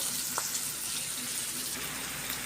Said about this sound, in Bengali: ফাইনালি আমার ঝাল পিস ভাজা হয়ে গেল